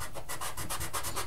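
A part for a City Classics service station model is sanded in quick, regular back-and-forth strokes, a close, steady scratchy rubbing with no speech.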